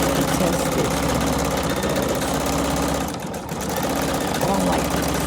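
A Husqvarna Viking Sapphire 85 sewing machine runs a test stitch, its steady mechanical whir continuing with a brief dip partway through, close and fairly loud.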